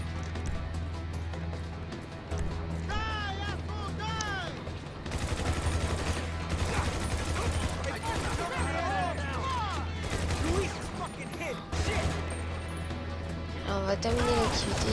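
Rapid gunfire in the video game GTA 5, loud fusillades in long bursts with whizzing ricochet-like tones, under someone talking and a low steady hum.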